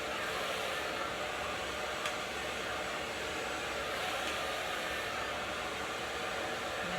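A hair dryer whooshes steadily while long hair is blow-dried for volume, with a constant airy roar close by and faint brief clicks or shifts in the airflow along the way.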